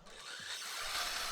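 Steady, soft rasping of sandpaper, from 180 up to 320 grit, rubbed back and forth over wooden shadow box pieces, continuous and fairly quiet, with no talking.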